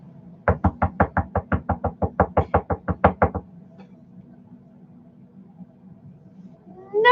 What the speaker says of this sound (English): who the hell is knocking on my door?